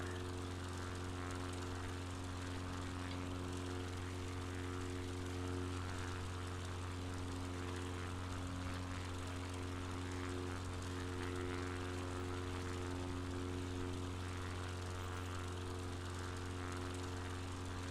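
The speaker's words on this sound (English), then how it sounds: "just a buzzing in the background. The airplane isn't very loud." A low, steady airplane engine buzz from Microsoft Flight Simulator 2020, with constant droning tones filling the background, quiet and unchanging for the whole stretch.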